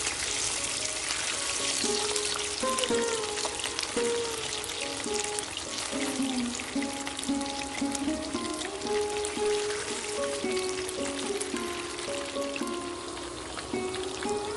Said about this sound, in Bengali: এবার উল্টো পিঠটাও কড়া করে ভেজে নিচ্ছি।